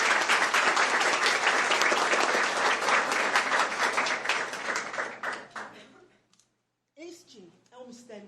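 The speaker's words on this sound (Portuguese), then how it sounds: "uma salva de palmas bem forte." A strong round of applause from a congregation at a Catholic consecration meeting, dense clapping that fills the room for several seconds, then thins and fades, with a few scattered claps and voices afterward.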